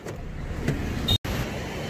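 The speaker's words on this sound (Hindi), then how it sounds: "लेकिन रास्ते में बहुत ट्रैफिक है यहाँ पर" Heavy road traffic heard from inside a car on the way to Fanoos Dhaba: a steady, muffled low rumble of vehicles with a brief high tone and a momentary cutout partway through.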